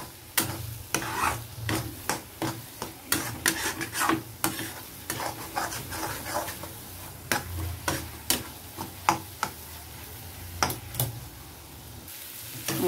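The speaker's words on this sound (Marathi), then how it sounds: "आता बघा कसे मी मिक्स करून घेते" Egg bhurji being stirred and mixed in a pan, a steady run of sharp spatula scrapes and taps over a soft sizzle, close and fairly loud with no talk.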